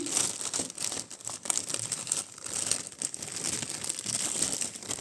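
A small plastic packet from a parcel of vintage jewellery crinkles and rustles continuously, close up, with no talking.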